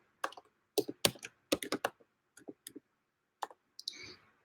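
Close keyboard typing comes in short, irregular bursts of crisp key clicks separated by brief pauses, alone in a quiet room.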